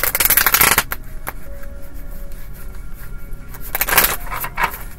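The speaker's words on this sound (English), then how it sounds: "And these cards don't want to shuffle this morning." A deck of cards is riffled and shuffled up close, with loud crisp bursts of flapping cards at the start and again near the end, separated by quieter handling and light tapping.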